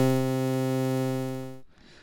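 Several synthesized tones generated from an image's colors in SmplASketch, played together as one dense, buzzy harmonic chord that sustains evenly for about a second and a half, then stops abruptly into low background noise.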